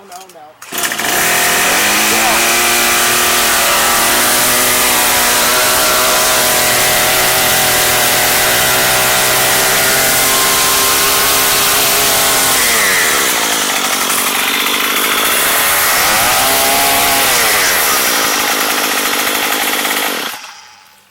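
A Troy-Bilt TB32EC gas string trimmer, a discarded unit with a sticking throttle, runs loud and close for about twenty seconds, holding a steady high whine, then dips and surges twice before cutting off.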